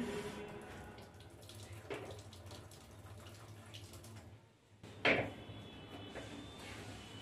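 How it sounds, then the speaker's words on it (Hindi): Water poured from a tap into a pressure cooker holding lentils in a home kitchen, a soft continuous running and splashing stream with a brief louder gush near the end. "मैं उसी का 4 गुना पानी डालूंगी कुकर में।"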